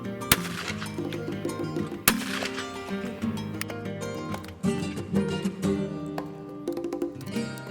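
Shotgun shots from a .410 firing reloaded AA hulls, several sharp loud reports with ringing decay spread across an outdoor range, mixed with busy background noise.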